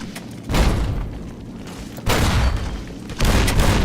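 Three grenade explosions burst in Fallout: New Vegas, each a loud, broad boom with a lingering rumble, arriving about one and a half seconds apart with no voices heard.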